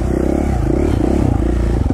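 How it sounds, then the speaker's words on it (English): A dirt bike engine runs on a single track trail in Idaho, a loud, close, rapid throbbing rumble with rattling and brief rises in revs. "I don't know if you guys can hear it, but I can utilize a lot more of this engine now"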